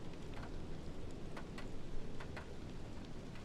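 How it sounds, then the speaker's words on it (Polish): Steady rain falls at Poznań airport in Microsoft Flight Simulator, heard as a dense, even hiss of drops with a few brief sharper spatters, continuous and unbroken with no voices. "na lotnisku w Poznaniu pogoda taka se, pada deszcz"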